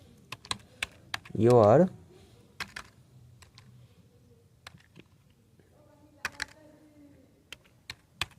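Computer keyboard keys click in sparse, separate taps across a quiet room, with a short burst of speech early on.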